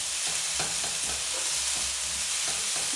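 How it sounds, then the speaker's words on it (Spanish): Chopped onions brown in a pan, a steady, loud sizzle and frying crackle with the soft scrape of stirring, alone with no voices. "vamos a seguir dorando esto, y una vez que esto esté dorado, que la cebolla se note que ya está más transparente"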